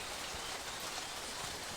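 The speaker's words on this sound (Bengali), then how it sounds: "বাইরে দেখো কত সুন্দর বৃষ্টি হচ্ছে, বাইরে বৃষ্টি হচ্ছে" Rain falls steadily outside a house as a soft, continuous hiss, faint and even without a break.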